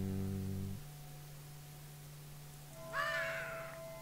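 A parrot in the Minecraft video game gives a single sharp squawk near the end, after a low droning musical tone fades out, with no talking over it.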